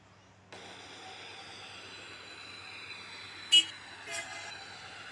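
A new Athens Metro Line 1 train runs between Thiseio and Monastiraki with a steady rumbling hum and high whine, then two short horn-like toots sound near the end.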